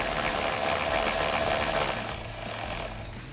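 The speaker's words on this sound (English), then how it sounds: "using a 12mm socket on my electric ratchet, go ahead and get that about hand tight." An electric ratchet with a 12mm socket drives an M8 bolt, fitting nerf side step bars to a Jeep Wrangler JL 4-door. A loud, steady mechanical whir holds throughout and eases off near the end.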